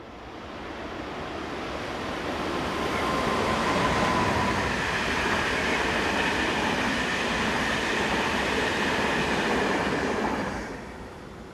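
The EN 294 overnight sleeper train from Rome to München passes close by, its rumble and clattering wheels swelling, holding steady for several seconds, then cutting off quickly as it goes by.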